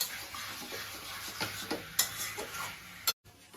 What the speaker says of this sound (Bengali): গ্যাসটা একটু জোরে করলাম, কারণ আমি একটু মশলাটা ভালো করে কষিয়ে দেবো